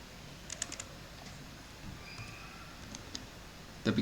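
Light typing on a computer keyboard while a name is entered during an Ubuntu 20.04.3 LTS install, a few quiet scattered key clicks over a faint hum, ending in a louder tap.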